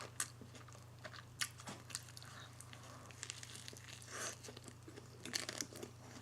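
Someone chews a cold sandwich close to the microphone, with soft crunchy bites and a run of irregular mouth noises over a low steady hum.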